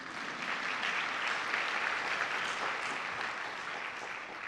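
Sustained applause from a luncheon audience, steady and dense clapping throughout without a break.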